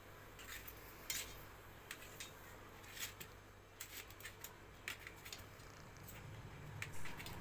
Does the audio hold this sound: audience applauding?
no